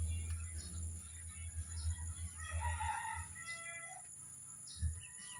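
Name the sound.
pet chickens, rooster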